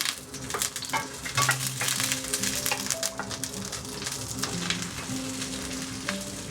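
Garlic sizzles and crackles in a hot wok, a loud continuous frying hiss with occasional stirring scrapes, no talking.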